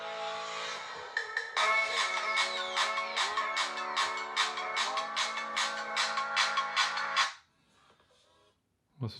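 Samsung Galaxy A10 phone playing a ringtone through its rear loudspeaker, a loud, bright run of rhythmic repeated notes lasting about seven seconds before cutting off into near silence.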